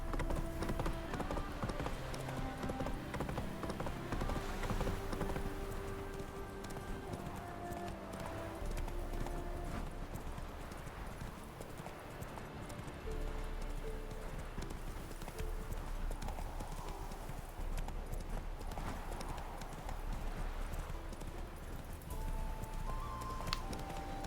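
Hooves of the horse Roach galloping in The Witcher video game, a steady, rhythmic clip-clop that runs throughout at moderate loudness, with faint game sounds behind it.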